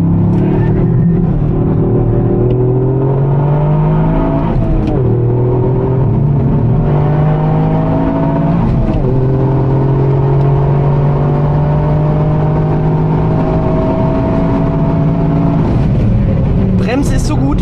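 A car accelerates hard through the gears on a timed reference lap, engine rising in pitch in repeated sweeps with brief shift breaks, loud and close from inside the cabin.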